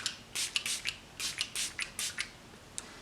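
Tarte Rainforest of the Sea facial spray misting from a pump bottle, a quick series of close, soft hissing bursts, about ten short sprays in an uneven rhythm, alone in a quiet room.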